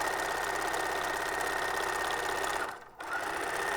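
A sewing machine stitches a fabric sleeve seam from armpit to wrist for a Luke Skywalker costume, its fast steady needle rattle running close and continuous, briefly pausing near the end before resuming.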